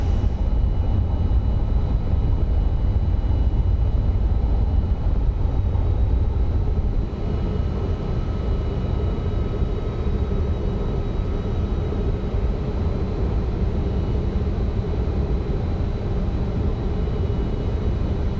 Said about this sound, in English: Nice long takeoff roll, nice and heavy today.